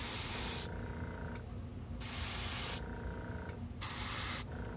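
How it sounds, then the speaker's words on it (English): An airbrush spraying bright orange paint at 20 PSI onto a Gunpla model hisses steadily in repeated bursts, three longer sprays separated by brief pauses, close and fairly loud. "right now I'm spraying at 20 PSI."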